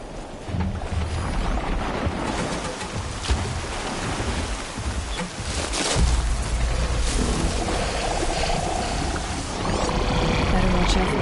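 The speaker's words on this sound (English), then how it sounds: "Here comes the rain." Rain in the video game Horizon Zero Dawn, a steady broadband hiss of falling rain with gusts and a brief thump, continuing throughout beneath a voice.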